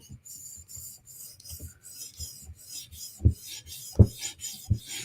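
Blade stroked across a 400 grit sharpening stone gives repeated short rasping passes in a steady rhythm, close and fairly quiet, with a few sharper knocks near the end.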